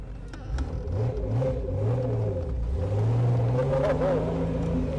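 A Pontiac Fiero engine revs with a rising, steady whistling whine from a straight-gear Vortech V1 S-trim supercharger running beneath the motor's roar, loud and close throughout.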